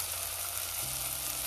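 Onions, peanuts and chopped tomatoes sauteing in a pan for an Andhra rice dish, giving a steady, close sizzle and hiss throughout with no talk.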